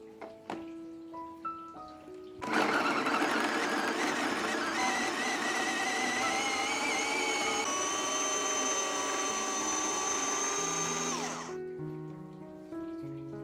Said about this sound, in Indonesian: Jadi ini pertama kalinya aku mau pakai chopper ini ya teman-teman.